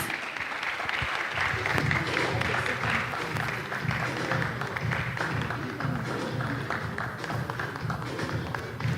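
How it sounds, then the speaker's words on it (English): Sustained applause from a conference audience at an African readers event, steady clapping filling the room for several seconds without a break. "Let's give him a round of applause."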